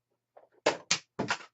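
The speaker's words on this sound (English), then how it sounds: "Whoops, knocking everything over here." Art supplies, brushes and paint, knocked over on a table while painting, giving a soft fumble and then three sharp clattering knocks close by, with no talk.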